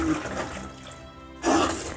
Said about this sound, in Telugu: వాటర్ పోసేసుకుందాము